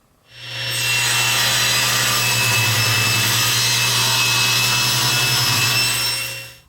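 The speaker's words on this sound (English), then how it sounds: "let's start off with some 1/16 inch thick ABS, which we're going to do over at the table saw." A table saw cuts through a 1/16 inch thick ABS sheet, its loud steady whine and hiss rising quickly, holding for about five seconds under a low hum, then dropping away; no talk.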